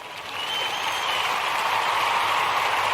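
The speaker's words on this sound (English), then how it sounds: "let's give all the Ujamaa born a round of applause" Audience applause swells within the first half second and holds as a dense, loud wash of clapping until the end.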